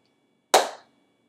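One sharp hand clap during a dance routine, a single crisp crack that fades quickly, with silence before and after.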